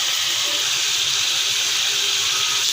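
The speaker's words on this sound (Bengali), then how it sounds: "এখন দেখো আমি অল্প করে আস্তে হিট দিয়ে আমি ভেজে নিচ্ছি।" Chicken pieces frying gently in oil over low heat for an achaari dish, a steady, close, continuous broadband hiss and sizzle with no talk.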